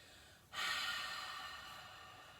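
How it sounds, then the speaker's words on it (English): A full, audible exhale during chair yoga, starting sharply about half a second in and trailing off slowly as a soft airy rush, close and alone without talk. "Take a full breath out"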